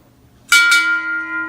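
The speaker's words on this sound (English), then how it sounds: "So I have a video clip of me ringing the bell." A bell is rung after a first solo flight: two quick clangs close together, then a clear metallic tone that hums and fades slowly, loud and near, with no talk over it.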